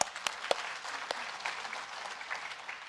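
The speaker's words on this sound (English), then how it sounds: "So a round of applause for yourselves for being here." Audience applause at an entrepreneurship fair session, a dense, steady wash of many hands clapping at moderate level with a few sharper individual claps standing out, no talk over it.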